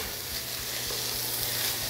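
Chicken and green corn pancake filling with tomato is stirred in a frying pan, a close, constant sizzle and hiss with soft scraping from the spoon, brief and unbroken.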